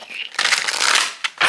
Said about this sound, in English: Oh, I heard shuffling